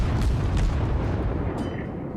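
Battleship main guns fire in the naval video game World of Warships, heard as a few deep rolling booms in quick succession followed by a fading rumble.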